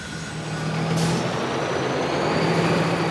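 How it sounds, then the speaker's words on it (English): A heavy truck with air brakes rolls onto a river ferry pontoon on a Bolivian Andes route, its engine rumbling steadily close by, with a sharp hiss of released brake air near the start. "Now it's all about steering the truck across the ramp."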